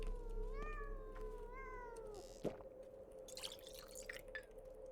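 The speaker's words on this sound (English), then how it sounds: "Every time you hear a cat in this game, you can't find a cat." A cat meows a few times in quick succession in the video game Pathologic 2, over a steady low ambient hum, followed by a single sharp tap and some faint rustling.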